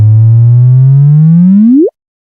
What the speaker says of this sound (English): What you hear is the chirp, the signal rising in pitch and intensity as the two stars spiral